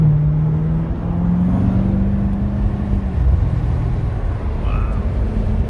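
A 2015 Corvette C7 Stingray drives along with a loud, continuous engine rumble heard from inside, its pitch rising then dropping as gears shift smoothly.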